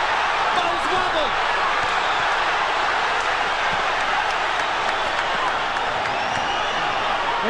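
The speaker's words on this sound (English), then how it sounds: "Crowd lights up as Golota lands a combo" Boxing arena crowd at the Riddick Bowe vs Andrew Golota heavyweight fight roaring as Golota lands a combo, a dense, loud, sustained wash of cheering with scattered shouts throughout.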